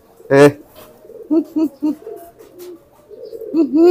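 Pigeons coo in low, throaty, rolling courtship bursts, several calls in quick succession with a louder call near the start and another at the end.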